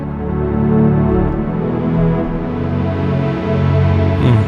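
A lush, sustained synth pad from the Orbiting Jupiter preset in the Alchemy stock plugin, with layered warm chords holding steadily and shifting slightly, playing loud and alone without voices.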